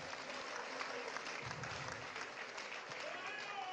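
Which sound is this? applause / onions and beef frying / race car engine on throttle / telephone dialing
applause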